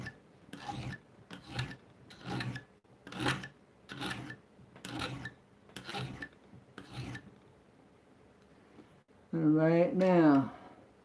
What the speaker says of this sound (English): I'll be putting it on the sandpaper here in a minute.